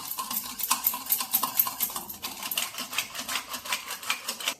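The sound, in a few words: whisking gram flour into buttermilk for kadhi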